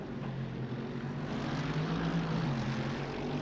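An aircraft engine drones steadily overhead the Bathurst mountain section in a GT racing video game, a constant loud hum with slowly shifting pitch throughout and no talking.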